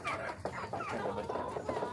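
Rhode Island chickens and a rooster cluck and chatter continuously on a farm, with overlapping calls at moderate distance and no clear talk.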